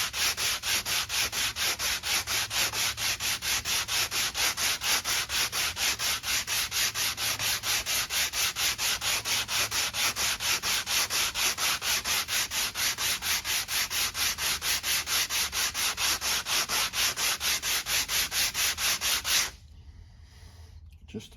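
Rapid, steady back-and-forth sanding of the angled bottom of a wooden brace for a curly maple dreadnought guitar back, close and loud for about nineteen seconds before stopping abruptly into near silence.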